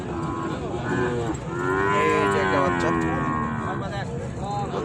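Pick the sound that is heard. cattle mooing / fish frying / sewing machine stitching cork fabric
cattle mooing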